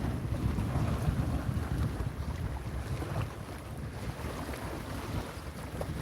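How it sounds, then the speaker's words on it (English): Ocean waves pound hard against the shore on a cold December day, with gusting wind buffeting the microphone in a steady, loud roar and no voices. "it sounds like the ocean out here. The waves hitting so hard."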